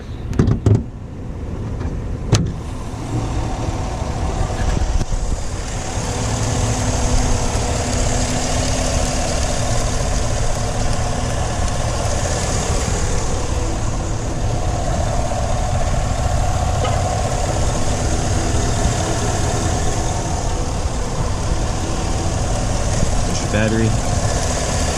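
A 2021 Chevrolet Silverado Z71 Trail Boss with its 5.3 liter V8 idles in a steady low rumble, heard near and continuous while a person talks over it, with a few sharp clicks early on.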